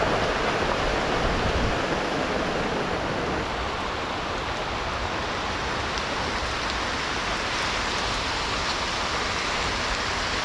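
Heavy rain falls outdoors at a fishing spot, a dense, constant hiss of drops pouring down without letup for ten seconds, loud and close with no voices.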